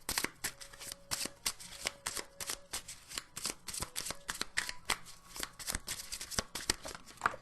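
A deck of oracle cards is shuffled by hand in quick, uneven riffles and slaps, close and crisp, running for several seconds with no talk.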